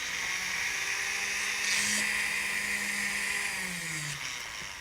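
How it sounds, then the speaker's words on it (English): Rotary tool fitted with a cup burr grinding the metal prongs of a ring setting while setting a stone, a steady high-pitched whine running continuously and close by with slight changes in pitch. "I can actually use another tool called a cup burr."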